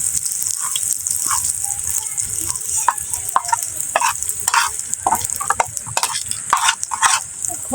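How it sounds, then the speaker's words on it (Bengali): Fish fries in a pan with a bright, constant sizzle, while a spatula scrapes and turns the pieces in loud, irregular bursts close by. "ছেলে মেয়ে খোলার মাছ ভাজা খায় ভালো।"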